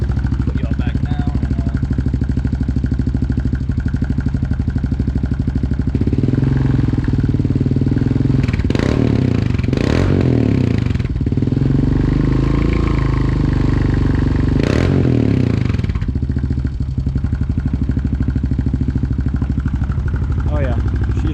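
A motorcycle fitted with a freshly repacked Big Gun exhaust idles loudly up close, then is revved several times in sharp surges that fall back to a rumbling idle.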